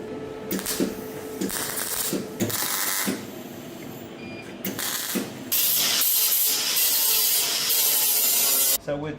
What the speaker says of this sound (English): now Jamie's gonna give it a quick rub down